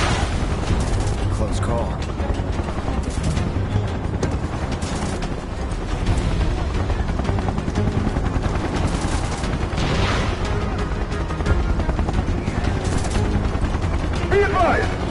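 Gunfire and heavy combat in Final Fantasy VII Remake, a dense, continuous wash of shots and booms running under shouted voices throughout.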